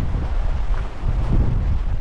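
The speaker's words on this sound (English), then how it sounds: "Man, it's windy" Gusty wind blows outdoors by the water during a fishing trip, buffeting the microphone with a loud, rough, low roar that swells and dips.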